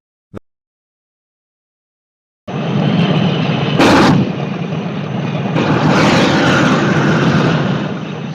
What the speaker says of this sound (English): A dragon that runs on diesel engines.